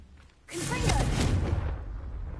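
A Confringo fire spell in Hogwarts Legacy, quiet at first, then a sudden loud explosive blast at about half a second that rumbles for over a second before easing off, with faint voice-like game sounds mixed in.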